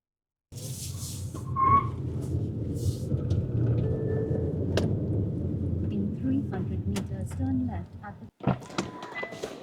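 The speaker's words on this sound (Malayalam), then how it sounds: "ഞാൻ ഏതായാലും ഫുൾ ത്രോട്ടിലൊന്ന് കൊടുക്കുകയാണ്" A 2025 Hyundai Creta EV accelerating at full throttle, heard from inside the cabin as a steady low road rumble with a faint electric motor whine, which stops abruptly near the end.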